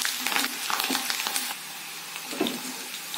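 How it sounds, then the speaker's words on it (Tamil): Garlic sizzles in hot oil in a pan while cooking rava kichadi, a steady close crackle with occasional scraping stirs. "1 பூண்டு, 1 பூண்டு கொஞ்சம் செவக்கட்டும், அப்போதான் டேஸ்ட் நல்லாயிருக்கும்."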